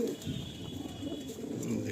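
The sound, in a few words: pigeons cooing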